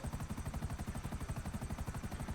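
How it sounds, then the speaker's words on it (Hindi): A helicopter in the video game GTA V flies with a rapid, steady thudding of rotor blades. The sound is loud and close, with an even pulse throughout. "हेलीकॉप्टर टेढ़े से उड़ा दिया भाई"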